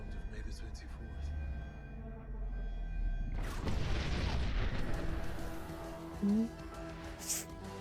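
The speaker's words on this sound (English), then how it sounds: "the explosion that exploded the Earth explodes the TARDIS as well" A deep, rumbling explosion in a Doctor Who episode tears the TARDIS apart, a low hum giving way to a sudden broad roaring blast that rolls on with crackling debris and a few sharper hits.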